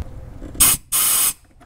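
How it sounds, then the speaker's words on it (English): Two short blasts of compressed air blowing dirt out of a spark plug well on an Acura TL, loud and close hisses, the second longer than the first, with quiet in between. "get the compressed air in there just to make sure there's no dirt"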